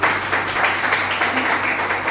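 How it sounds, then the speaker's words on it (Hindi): Steady applause from a crowd, dense and continuous clapping filling the whole moment with no pauses. "मैं चाहता हूँ आपके लिए जोरदार ताली होनी चाहिए।"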